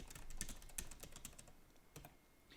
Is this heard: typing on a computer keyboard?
yes